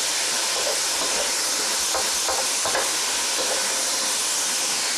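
Crumbed tofu and mung bean sprouts frying in a pan, a dense, continuous hiss of sizzling oil, fairly loud and close, with faint intermittent stirring and no voices.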